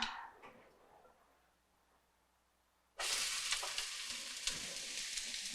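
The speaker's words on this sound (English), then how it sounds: "My pan's really hot. And I'm going to toss in my onions." Onions go into a very hot pan of olive oil after a few seconds of near silence, setting off a sudden loud sizzle that holds steady and close.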